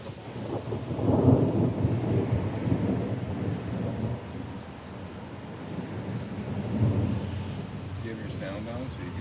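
Low rumbling thunder rolls through a summer thunderstorm, swelling twice into longer booms with steady rain or wind noise underneath; a voice is faintly present.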